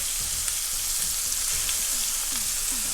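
Meatballs fry in a pan with a steady, moderately quiet sizzle, broken now and then by soft stirring or turning scrapes, with no voices over it.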